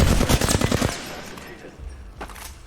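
Rapid bursts of gunfire from the Valorant video game, a dense rattle of shots up front that thins into scattered single cracks and a final short burst.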